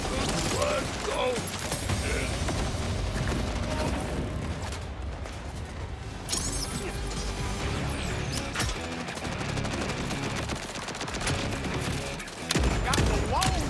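Dense, continuous gunfire and mechanical clatter from the looter-shooter game Borderlands 4, loud and busy throughout with a sharper burst near the end, mixed with game music and effects and some talking.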